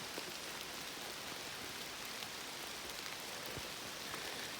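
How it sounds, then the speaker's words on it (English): Rain dripping off tree leaves along a forest trail in Great Barrington, Massachusetts, a steady soft patter of drops with scattered heavier taps, even and continuous throughout with no voices. "It's like the rain's just dripping because it's staying on the leaves"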